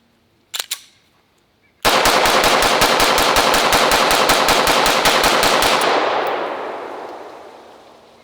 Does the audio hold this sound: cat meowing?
no